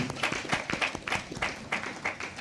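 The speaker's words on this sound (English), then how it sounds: "A round of applause, please." Sparse applause from a small group at a service and parts promotional event, individual claps rising and falling in short irregular bursts without much sustained crowd roar.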